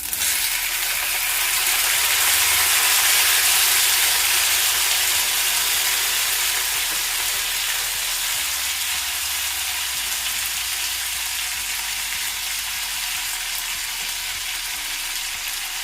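Three large chopped tomatoes frying in a pan for cucumber set dosa chutney give a steady, close, loud sizzle with a faint stirring scrape, running unbroken and alone with no voices.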